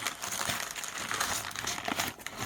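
Paper packaging crinkles and rustles continuously close by as a Queen of the Night perfume by Merchant of Venice is unboxed, a dense, busy crackling with no speech.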